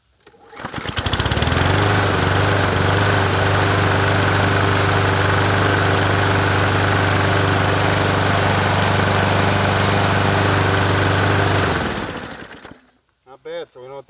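A Toro 21-inch self-propelled lawn mower engine starts and runs loud and steady at close range for about ten seconds, then cuts off and winds down to quiet, followed by a brief voice.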